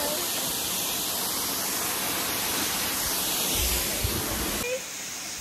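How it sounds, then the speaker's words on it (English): Waterfall at the Mayan World site in Belize, a steady broadband roar of falling water throughout, loud and close, dropping slightly near the end. "we're at the waterfall."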